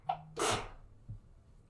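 A single person sneezes nearby with a short inhale and then a sharp burst, followed by a faint sniff in a quiet room.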